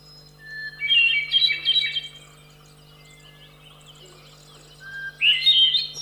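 A hermit thrush sings two clear, flutelike phrases separated by a quiet pause, each starting on a held note and breaking into higher warbling, over a faint steady hum.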